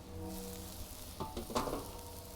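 Pork and fried rice sizzle steadily on a grill for Spicy Pork Bulgogi, a constant close frying hiss with a few brief stirring scrapes near the end.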